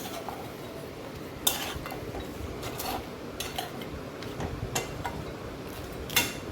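A spatula stirs fried katla fish heads together with potatoes in a pan for a Bengali kaliya, giving steady scraping and a few sharp clinks against the metal with no talking.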